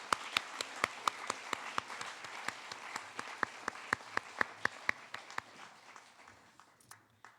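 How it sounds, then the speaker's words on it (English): Scattered audience applause at a school academic awards ceremony for ninth graders, with distinct individual claps ringing out in a loose rhythm from a modest crowd, gradually thinning and fading toward the end. "How about a round of applause for those ninth graders?"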